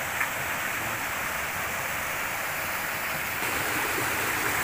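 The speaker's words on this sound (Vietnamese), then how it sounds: "Này gần suối đó nha mọi người." A forest stream flows steadily, with a constant dense rush of water close by that fills the whole stretch without pause.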